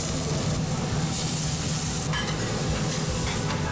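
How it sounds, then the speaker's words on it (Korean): Square-shaped tteokgalbi, Korean short rib patties coated in seasoning, sizzle on a hot grill plate with a dense, steady hiss that stays loud and continuous throughout, with a brief crackle partway through. "지글지글 맛있게 익어가는 소리에"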